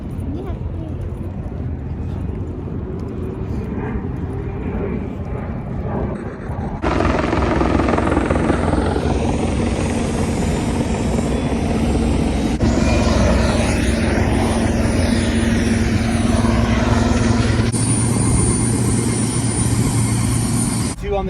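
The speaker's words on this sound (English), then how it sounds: "that's what the helicopters look like" Helicopter engine and rotor noise from a doorless tour helicopter in New York, a steady loud drone that grows louder and fuller partway through and continues throughout, with talk faintly mixed in.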